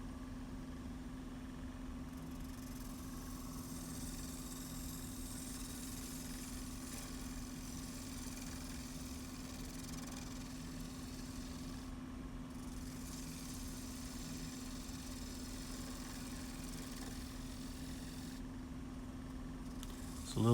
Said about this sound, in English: It's a little bit of a smoothing cut going across.